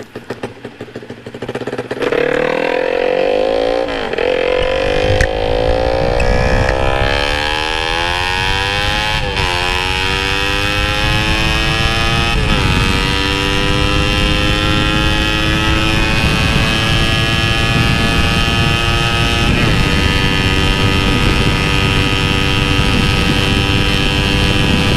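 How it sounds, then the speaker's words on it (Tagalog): Yamaha Sniper 200cc motorcycle with a J-Ho open exhaust and racing engine revving hard, its pitch climbing in repeated sweeps, then holding a loud, steady high rev close by with no talking. "Matesting tong sniper na naka J-Ho part na exhaust"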